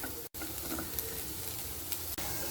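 Green chili and onion fry in a hot pan with an even, hissing sizzle that runs close and steady, broken by a brief gap and a couple of faint clinks.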